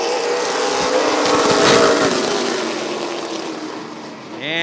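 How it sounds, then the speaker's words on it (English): Late model stock cars roar away on a green flag start at Rockford Speedway, a loud, dense engine drone that swells as the pack passes close by, then eases off with a fresh rising whine near the end. "Green flag, and we're racing."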